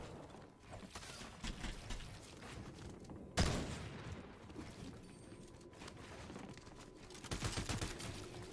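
Rapid gunfire bursts from a Fortnite solo fight, dense clattering volleys with a sharp loud shot near the middle and heavier firing toward the end, no talking.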